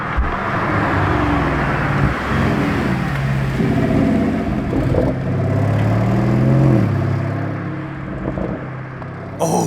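Lamborghini test car, near a yellow Temerario, with a loud engine revving and accelerating close by, the note rising and falling in steady surges over continuous road noise.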